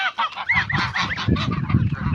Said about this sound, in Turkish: bakın şu da Amerikan tıs tıs dedikleri ördek arkadaşlar